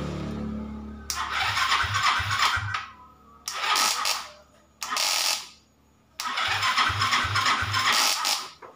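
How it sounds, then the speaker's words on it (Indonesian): A motorcycle engine is cranked in several bursts of starter and mechanical noise, each lasting one to three seconds and separated by short pauses. Sputtering low pulses suggest attempts to catch, and the bursts are close and fairly loud. "Kita hidupkan motornya."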